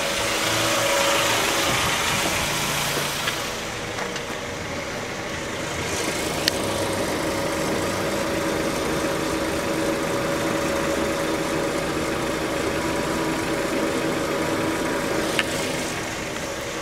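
A 2001 Suzuki Esteem car engine idles at a steady, even rumble throughout, with a couple of faint clicks and no one speaking.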